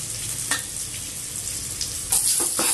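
Ginger and green chili paste fries in a pan with a steady close sizzle, broken by a few brief scraping stirs.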